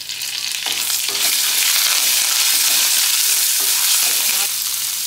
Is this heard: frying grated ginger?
yes